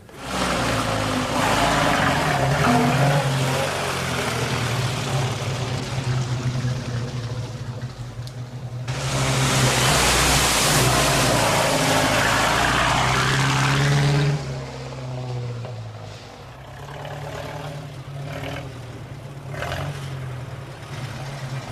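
A car engine roars continuously on a test drive, swelling louder and brighter midway as it accelerates before settling back to a steady drone, with no voices.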